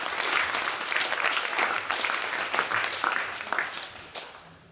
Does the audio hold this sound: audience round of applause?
yes